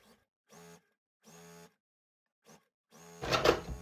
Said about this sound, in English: I'm going to go ahead and sew this block up for you